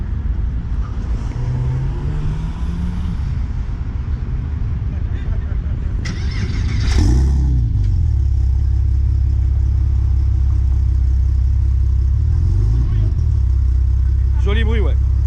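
A Porsche Cayman with TechArt modifications starts up with a sharp burst and settles into a deep, loud idle, then revs once more near the end, following earlier talk.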